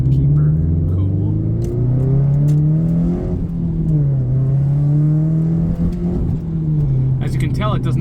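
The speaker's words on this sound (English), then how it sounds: "it does not sound like a normal Subaru, and that is because equal length headers" Tuned Subaru STi with equal length headers driving, a loud, close, smooth engine drone that swells and dips with throttle, with someone talking over it.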